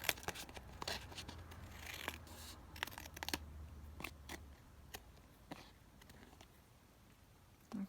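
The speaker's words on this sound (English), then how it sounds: "I'm just going to trim this down slightly more here" Scissors trim a pressed-flower paper ephemera piece with a series of close, crisp snips and rustles at an uneven rhythm, quiet overall, with no one talking.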